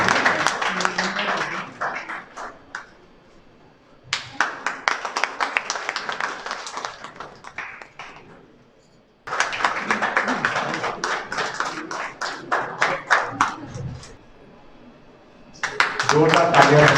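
An audience at a teacher honouring ceremony claps in bursts, with several separate rounds of hand claps broken by short pauses and speech.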